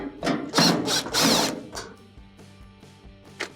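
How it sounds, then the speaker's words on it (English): Top screws on a GE dryer being backed out with a Phillips bit on a driver, several short bursts of whirring and ratcheting, close and loud, then quieter clicking. "to remove the top, you will have to remove these 3 screws here."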